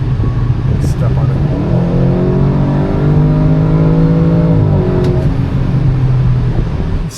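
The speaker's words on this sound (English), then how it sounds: "I'd make the exhaust louder. It sounds really good" A 2021 Audi RS6 Avant accelerating hard, its engine and exhaust building into a rising, throaty drone that swells and then eases off, with talk over it.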